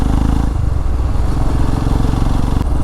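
A motorcycle engine drones loud and steady as the bike rides along a road through the Bandipur forest, its low rhythmic thrum close to the microphone throughout.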